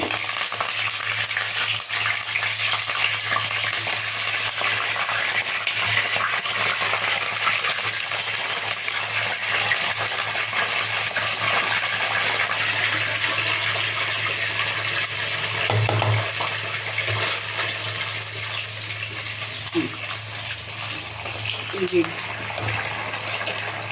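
Brinjal pieces fry in hot oil with curry leaves for a gravy, making a dense, continuous sizzle and crackle close by while a person talks over it.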